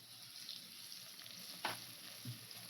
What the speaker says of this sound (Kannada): ಇವಾಗ ನಾನು ಅದನ್ನ ಎಣ್ಣೆಲಿ ಚೆನ್ನಾಗಿ ಫ್ರೈ ಮಾಡ್ಕೊತಾ ಇದ್ದೀನಿ